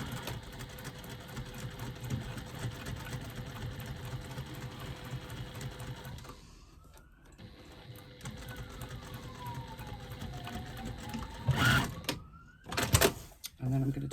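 A sewing machine stitches through the facing panel and lining panels of a fabric wristlet, a steady close whirring hum that pauses midway, then resumes, with a couple of sharp clunks near the end.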